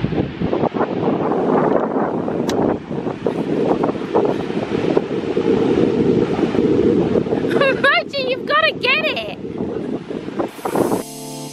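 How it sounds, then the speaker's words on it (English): Wind buffets the microphone at a beach in a steady rumble while a person talks, with a brief high chirping sound near the end. "It's a little windy"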